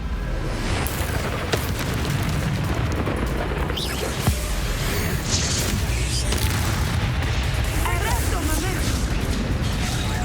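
Expulso explosion spell in the Hogwarts Legacy video game: loud booming blasts and rumbling bursts within dense, continuous game combat noise, with speech heard at times.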